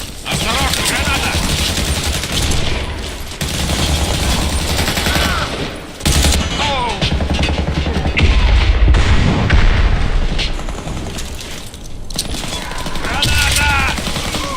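Grenade blasts and rapid gunfire in the shooter game Warface, with dense bursts of automatic fire and heavy booms running almost continuously, loud and close, while voices call out over the combat.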